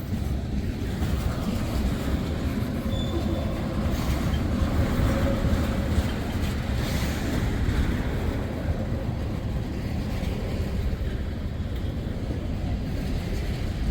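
A Wheeling & Lake Erie train rolling past a signal post, a steady low rumble of wheels and cars on the rails with wind buffeting the microphone, continuous and fairly close.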